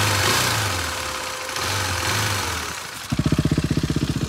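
Second-hand KTM motorcycle engine starting on a single push of the button and settling into a loud, close, rapid steady thump at idle after an earlier stretch of low rumble.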